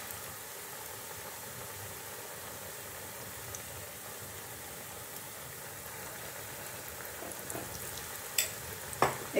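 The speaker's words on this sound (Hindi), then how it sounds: "ऑयल गर्म होने के लिए रख दिया, ऑयल गर्म हो गया, और कोफ्ता ऐड कर देती हूँ।" Radish kofta frying in hot oil, a steady close sizzling hiss throughout, with a few sharp clinks or pops near the end.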